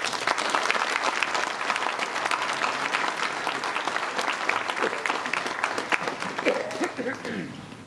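Audience applause at a mayor's New Year greetings ceremony in Bavilliers, sustained, even clapping from a hall crowd lasting several seconds, with faint voices emerging as it starts to thin toward the end.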